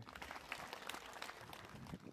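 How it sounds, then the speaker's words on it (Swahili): Audience applause at a gathering where dignitaries are being introduced, a soft, fairly distant patter of clapping with a few sharper individual claps standing out. "makofi kwake"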